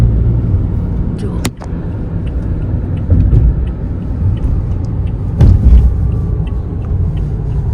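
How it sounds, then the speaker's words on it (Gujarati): A new car in Australia driving smoothly, heard from inside as a steady low road-and-engine rumble with a few brief knocks and bumps, fairly loud and even throughout. "રામ, નવી ગાડી કેવી લાગે છે તમને? એકદમ સ્મૂથ હો, વય જ જાય છે ને મસ્ત"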